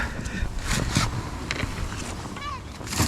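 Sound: small boat pushing through bushes on water

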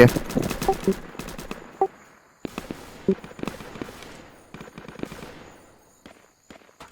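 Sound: gunfire in a video game

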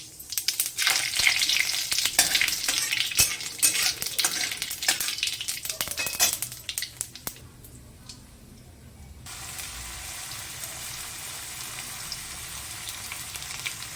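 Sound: cumin seeds and bay leaf sizzling in hot oil

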